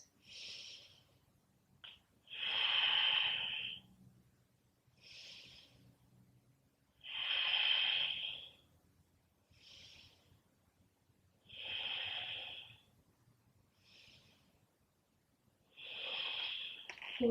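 Deep, rhythmic breaths during a fiery flow yoga session, slow inhales and exhales rising and falling in long swells about every two seconds, close and fairly faint with no talking.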